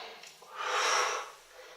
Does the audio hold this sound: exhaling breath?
yes